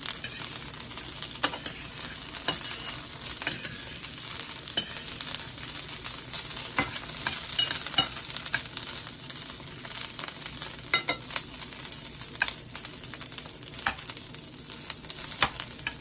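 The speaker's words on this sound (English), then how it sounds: "I'm going to stir this. Yeah, it's starting to brown." Trader Joe's organic tempeh sizzles in a pan while being stirred, a continuous soft frying hiss broken by scattered scrapes and taps of the utensil, close and quiet with no talk.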